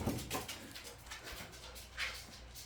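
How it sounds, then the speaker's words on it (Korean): Older dogs bark in the distance near twenty-day-old golden retriever puppies, a few faint, scattered yaps and soft whimpers spread irregularly over a quiet room. "큰애들 짖는다."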